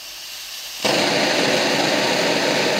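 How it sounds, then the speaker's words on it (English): An Optimus Polaris stove lights after a short quiet hiss, jumping abruptly into a loud, steady, close roaring rush of burning fuel that holds unbroken to the end. "Now I'm going to fire the stove up."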